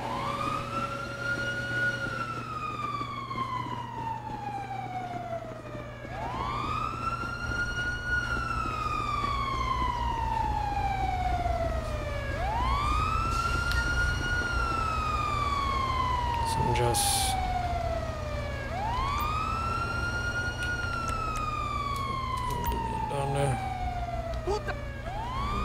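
A police car siren in the LSPDFR police mod for GTA V wails in long rising and falling sweeps, loud and continuous over a steady engine hum, with brief clicks partway through.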